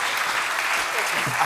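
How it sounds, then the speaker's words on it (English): An audience in a Filipino school auditorium claps in a brief, dense burst of applause at close range. "please give a warm Filipino round of applause, a warm Filipino welcome to Dr. Pete Paciore"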